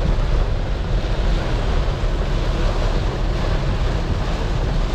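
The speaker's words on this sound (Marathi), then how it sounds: "आणि जबरदस्त मुसळधार पाऊस लागलाय." Heavy monsoon rain pours onto a moving car near Lonavala, a dense, steady roar of broadband noise that fills the whole clip without pause.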